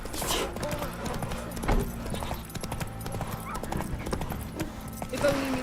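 A horse gallops in the video game Witcher 3 Wild Hunt, its rapid clip-clopping hooves pounding steadily and close, with a whinny and scattered game sound effects layered in.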